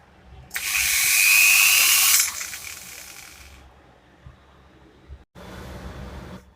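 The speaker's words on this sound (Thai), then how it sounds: "เดี๋ยวเจาะ 4 อันเนี่ยนะครับ" Power drill boring holes in a TANIN TFR-2244 for a replacement transformer: a loud high whine for about two seconds, fading off, then a shorter burst after a brief pause.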